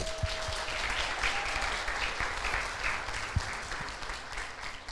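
A church congregation applauding for a pregnant woman named Kelly, a steady wash of clapping at moderate distance with a few louder isolated claps and faint background murmur.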